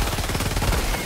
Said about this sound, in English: All I have is a machine pistol.